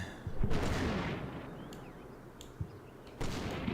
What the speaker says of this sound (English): the entire purpose of those opening artillery shells they're firing